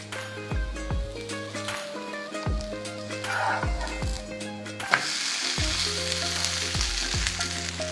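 Food cooks gently in a covered pan over a low flame, giving a soft continuous sizzle beneath a repeating musical tone, with a brief knock midway.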